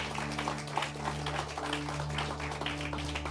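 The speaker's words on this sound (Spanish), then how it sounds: "Clap your hands to the Lord." A church congregation clapping their hands during a bilingual Sunday service, a soft, steady patter of many hands heard at a distance under a low background hum.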